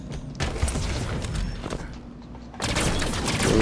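Rapid bursts of sniper and weapon gunfire in Halo 5: Guardians multiplayer, loud booming shots layered in dense volleys with a short quieter gap midway.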